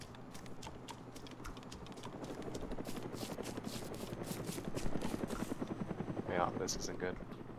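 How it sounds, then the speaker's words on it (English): A helicopter passes overhead in the video game DayZ, its rapid rotor chop loud and close, pulsing rhythmically and building toward a peak before easing slightly. "I hear the chopper. It's right above us."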